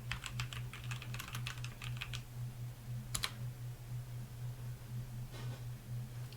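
Soft, quick keystrokes on a computer keyboard, a short burst of clicks followed by a couple of isolated taps, faint over a steady low electrical hum.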